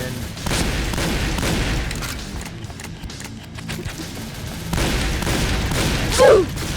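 Rapid gunfire in a video game crackles in steady dense bursts, easing briefly midway before picking up again, with a short voiced exclamation near the end.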